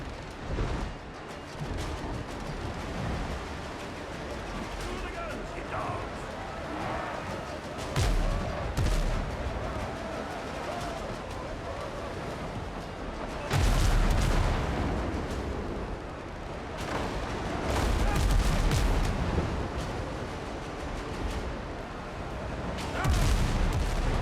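Musket and cannon fire in the naval video game Windrose, with a dense, continuous barrage of booms and crackling shots building to several heavier blasts, loud and close with no talking.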